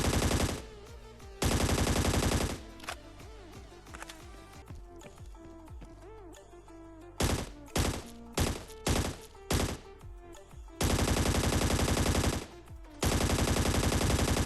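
Bursts of rapid automatic gunfire in the battle royale game ScarFall 2.0 alternate with single shots and clattering, with game-style effects between the loud volleys.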